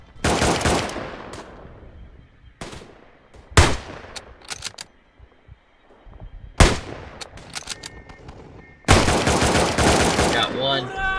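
Bursts of machine gun and rifle fire from the WWI shooter Tannenberg, loud rattling volleys broken by gaps and scattered single shots, some close and some distant, with no talk over them.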